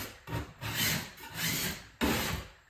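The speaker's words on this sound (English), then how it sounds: "scraping it with a putty knife seemed to work great" Putty knife scraping old pine ceiling boards in an 1890 farmhouse: three long rasping strokes, close and fairly loud, with brief pauses between them and no talking.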